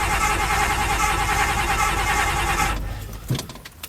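A 1993 Ford F-250 churns loudly and evenly during a failed cold start, then cuts out abruptly, followed by a few scattered clunks and knocks in the quiet.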